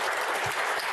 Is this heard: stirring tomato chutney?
no